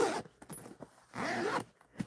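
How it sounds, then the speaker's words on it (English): A zipper on a bag pocket is pulled open in two quick, close raspy strokes, with a soft rustle of fabric between them, fairly quiet and with no one talking. "when I open up zipper pockets"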